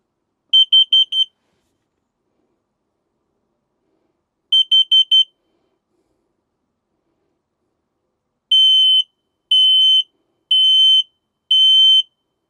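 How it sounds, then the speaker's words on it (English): An RV's carbon monoxide detector sounds a test alarm in loud, piercing electronic beeps: two bursts of four quick chirps, followed by four longer, evenly spaced tones. "we're going to check the carbon monoxide detector here under the couch"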